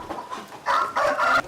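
Smuggled Thai roosters held at an agricultural quarantine facility in Aceh Besar cluck and squawk in short, close bursts, with a louder pair of harsh calls in the second half.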